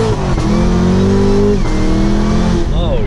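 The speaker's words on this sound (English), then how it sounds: "we did a couple short pulls just to feel the car out" A modified Camaro tuned to about 612 horsepower revs hard through a short pull, its loud engine note climbing steadily with a brief gear-change dip and a renewed rise near the end.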